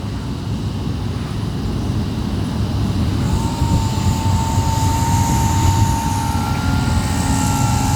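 An E-flite Turbo Timber Evolution 1.5 m RC airplane flies a slow pass into the wind, its steady electric motor and propeller drone holding level against strong broadband wind noise, with a faint whine rising midway.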